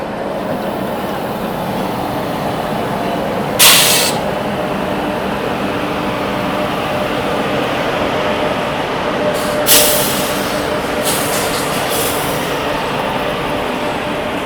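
A goods train with three engines passes on a curved hill line from Visakhapatnam to Araku, a steady loud rumble of wagons heard from on board with two brief hissing bursts standing out.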